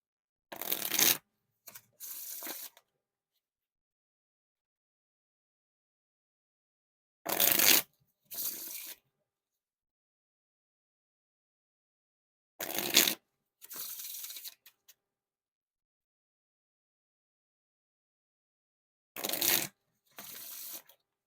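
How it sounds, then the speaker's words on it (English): Four separate bursts of riffle shuffling Bicycle Cocktail Party playing cards, each a quick crisp flutter followed by a softer bridging ripple, spaced several seconds apart in quiet. "Now time for the riffle shuffle or bridge shuffle."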